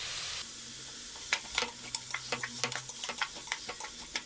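Vegetables sautéing in a pan with salt for vegetable biryani, a soft steady sizzle broken by a run of sharp stirring clicks and scrapes from a utensil against the pan, close and moderately loud, with no talking.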